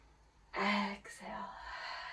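A single audible inhale during a yoga flow, a soft breathy rush lasting about half a second, followed by quieter breathing against a faint background.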